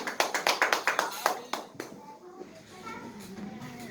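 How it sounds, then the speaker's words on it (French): A church congregation applauding the preacher: a run of crisp, fairly quick claps that fades after about two seconds into a murmur of voices, with a voice among them. "Nous allons acclamer l'homme de Dieu"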